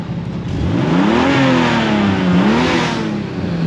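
Toyota Supra engine revs loudly nearby, rising in pitch, holding briefly, dipping and climbing again, with a steady roar throughout and no talking.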